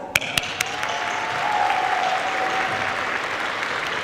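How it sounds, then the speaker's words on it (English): A commencement crowd claps for the graduating class of 2024, starting with a few sharp claps that swell into sustained, even applause filling the hall. "Class of 2024, a big round of applause to you guys."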